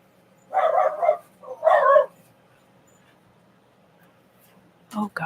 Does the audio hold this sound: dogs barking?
yes